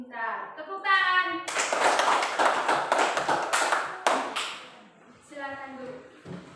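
Children in a classroom clap their hands in a quick, sharp burst of several seconds after a sung chant, with a child's sing-song voice heard before and after the clapping.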